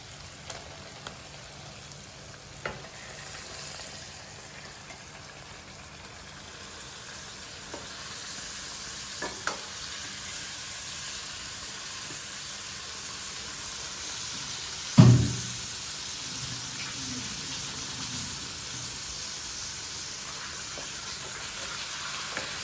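Mutton pieces frying in masala gravy in a pan on low flame give a steady, soft sizzle throughout, with one sharp clatter partway through as they go in and are stirred.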